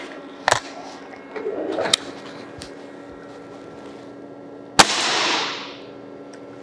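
Three or four sharp shots from a Nitro X air rifle with 75 kg kit, firing Promax pellets, crack out at irregular intervals, the last followed by a brief hissing tail; quiet background between shots.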